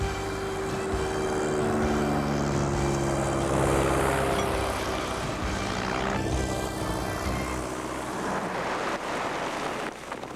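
A banner-towing airplane drones loudly and steadily overhead, its propeller engine holding an even, sustained hum for about ten seconds before easing slightly at the end.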